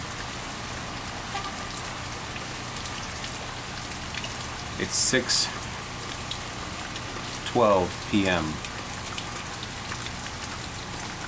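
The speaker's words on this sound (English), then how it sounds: "Fucking raining, man." Rain falls in a steady hiss throughout in the early evening, with a voice briefly speaking over it partway through.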